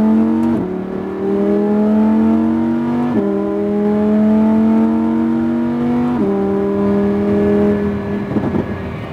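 A Lamborghini Huracan LP lapping a racetrack at Speed Vegas, its engine revving loud and close in three rising pulls, each broken by a quick upshift.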